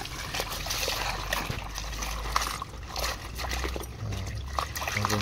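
Leafy greens are rinsed by hand in buckets of water, with continuous trickling, sloshing and small splashes close by.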